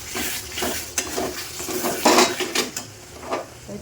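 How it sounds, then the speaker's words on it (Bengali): Mutton spice masala sautéing in a pan, with scraping stirs, utensil clinks against the pot and a soft sizzle beneath, close and moderately loud in uneven bursts. "মাটনের মশলা কষানো হচ্ছে"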